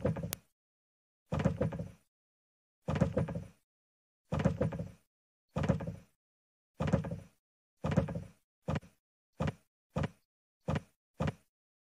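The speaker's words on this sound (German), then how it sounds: "Ist eine Schwingtür, habe ich vergessen." A swinging door in a Family Guy cartoon flaps back and forth, about a dozen thumping swings separated by silence, coming faster and shorter as it settles.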